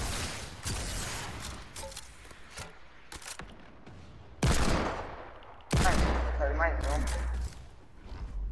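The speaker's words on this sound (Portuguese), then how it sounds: "Nossa, que tiro!" Bursts of gunfire in the Fortnite video game, a rapid volley at the start and louder shots that come in short loud blocks later, with people talking over the game audio.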